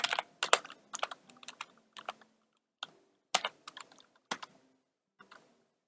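Typing on a computer keyboard at night: clusters of sharp key clicks in irregular bursts with short pauses, close and moderately loud, with no voices.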